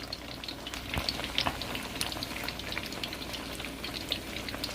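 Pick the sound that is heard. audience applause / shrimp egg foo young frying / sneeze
shrimp egg foo young frying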